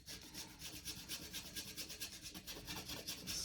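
A brush scrubs oil paint into a small wooden panel between A5 and A4 size, making quiet, close, rhythmic back-and-forth rubbing strokes that repeat rapidly and evenly without talk.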